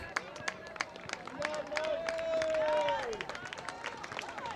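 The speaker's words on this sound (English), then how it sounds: "Now the crowd is yelling up to put 24-25 on the clock." Crowd at a WPIAL boys' high school soccer match between Norwin and Gateway yelling and calling out, with whistle-like tones and sharp claps over steady outdoor babble.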